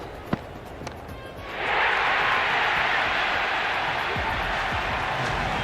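A video game cricket crowd in Cricket 26 bursts into a loud, sustained roar of cheering after a sharp bat-like crack, swelling quickly and holding steady as a dense wash of noise.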